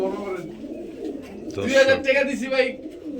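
Pigeons, two pairs of fancy breeds offered for sale, give soft cooing calls beneath and between steady talk, rising a little louder in the second half.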